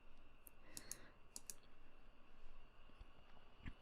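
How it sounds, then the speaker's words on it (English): Faint, close computer mouse clicks land in a few quick pairs early on and then once more near the end, over a soft hum, while someone works in the IntelliJ IDE. "I just opened it by clicking on this project tab"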